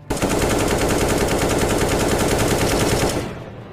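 Sustained machine-gun fire from a Filipino horror audio drama, a loud, rapid continuous burst of shots lasting about three seconds before abruptly cutting off, with no voices over it.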